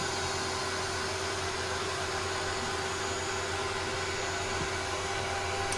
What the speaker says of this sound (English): Vacuum's on the go now.